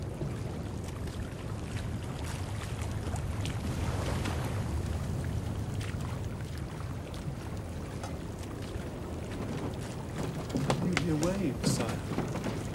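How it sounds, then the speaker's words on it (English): Waves break on an island shore heard from a sailing ship at night, a steady low wash and rumble of surf with wind, and a voice speaking briefly near the end. "Waves breaking upon a shore."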